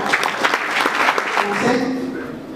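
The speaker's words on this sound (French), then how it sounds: "Est-ce que vous continuez d'applaudir s'il vous plaît?" Audience applause at a live concert event with Brazzaville and Kinshasa artists, irregular clapping under a speaking voice, with a brief tonal note near the end.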